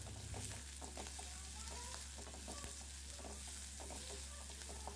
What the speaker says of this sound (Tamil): நம்ம கட் பண்ணி வச்சுருந்த வெங்காயத்தையும் இது கூட ஆட் பண்ணிவிட்டு ஒரு கொத்து கருவேப்பிலை இது கூட ஆட் பண்ணிவிட்டு இதை நல்லா வதக்கி விட்டுக்கலாம்